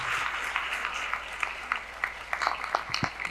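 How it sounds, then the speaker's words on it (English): A live audience gives a round of applause, with steady clapping throughout and a few sharper individual claps standing out near the end. "He deserves a good round of applause for the answer that he gave."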